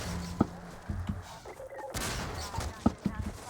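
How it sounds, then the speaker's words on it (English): Gunfire in Half-Life 2 aimed at a barrel: several sharp, separate shots spaced apart, mixed with thuds and crashing game effects at moderate loudness. "Then I'm going to shoot this barrel 3 times."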